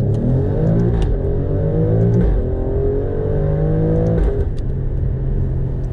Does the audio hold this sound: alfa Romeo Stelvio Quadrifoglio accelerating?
yes